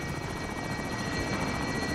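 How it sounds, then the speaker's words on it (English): A helicopter in the Call of Duty Plunder mode thumps overhead with a loud, steady, rapid rotor chop that fills the whole short clip. "There's a helicopter here."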